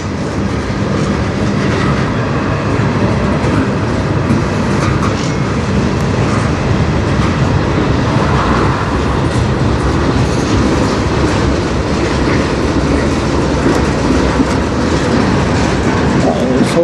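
Freight train hauled by an SD60 locomotive rolls steadily past, a loud, continuous rumble with clattering wheels and rail noise from start to finish, broadband and close, with no pauses.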